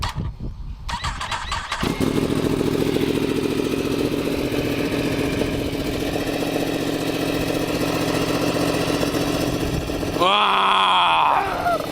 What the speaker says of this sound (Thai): อยากฟังเสียงท่อกันแล้วสิ เดี๋ยวผมสตาร์ทให้ฟัง